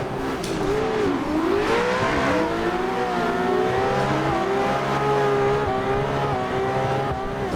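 Three cars drifting in tandem in Assetto Corsa, one a 500 hp 240SX, with loud, continuous engine revving and wavering pitch from several motors at once, plus tire noise, and no talk.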